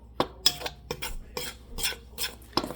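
Salt is mixed into Italian bread ingredients in a bowl, a series of quick, close scraping and clinking strokes of a utensil against the bowl in an uneven rhythm, with no speech.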